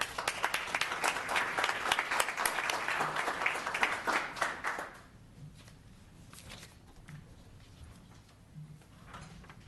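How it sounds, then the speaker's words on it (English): A room of people at a study session meeting claps for about five seconds, dense and fairly loud, then the applause cuts off into quiet room tone with faint scattered noises. "Another round of applause."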